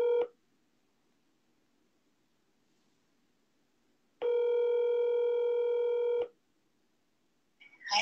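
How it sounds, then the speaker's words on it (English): A push-button telephone sounds while a call is placed: a brief tone burst, several seconds of quiet, then one long steady dual tone, ending with a short faint noise. "I think I have to call Mama Grace really quick"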